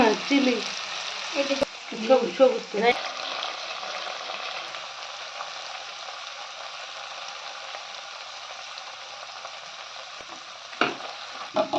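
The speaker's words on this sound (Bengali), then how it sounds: "এবার সেটা ভালো করে ফ্রাই করে নেব" Chopped capsicum, carrot and tomato frying in a pan, steady soft sizzle running throughout with a few clattering stirs near the start and another bump near the end.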